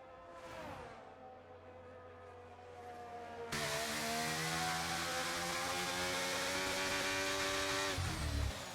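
Whining video game racing car engines rise in pitch, quiet at first, then louder and sustained as revs climb; no talking.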